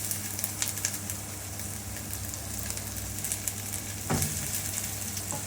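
Onion fries in a pan with crispy curry leaves, giving a continuous moderate sizzle and crackle with occasional stirring taps and one louder scrape of a utensil near the end. There is no speech.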